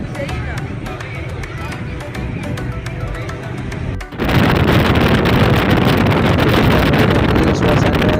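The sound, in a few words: ship deck ambience with engine and wind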